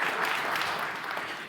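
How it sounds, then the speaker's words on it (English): An audience at a business forum applauds with a continuous wash of clapping that holds steady and tapers slightly toward the end. "You can applaud him."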